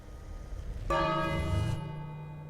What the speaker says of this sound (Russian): ну тогда звони в колокол опять